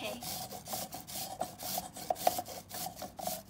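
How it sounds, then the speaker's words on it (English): A clove of garlic is rubbed against a grater in quick, regular rasping strokes, roughly three per second, close and moderately loud, with no voices. "We are gonna add a clove of grated garlic."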